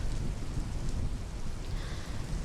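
Thunderstorm with steady heavy rain and low rumbling thunder, a dense continuous wash of noise at constant loudness with no voices.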